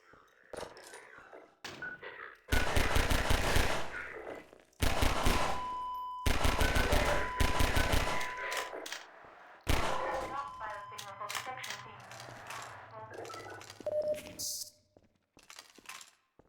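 Gunfire in Half-Life 2, several loud close bursts of rapid automatic shots separated by short gaps, then scattered metallic clinks and thuds, with speech in between.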